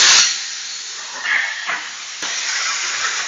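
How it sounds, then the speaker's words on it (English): Compressed air blasts out of an air hose at full force in a garage: a loud, close, continuous hissing rush that surges and shifts in tone for about three seconds, with no talking. "air is going to come out of this thing at full force."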